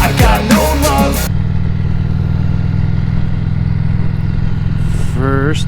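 A 2006 Harley Davidson Street Glide engine idles with a steady low rumble after service, with music playing over the start and a voice briefly at the end.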